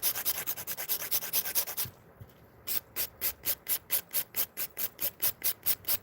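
An 80 grit file rasps back and forth over acrylic nails in quick, even strokes. The rhythmic scratching is close and steady, slows briefly, then picks up a regular beat again.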